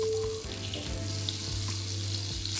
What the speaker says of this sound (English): My butter is nicely bubbling away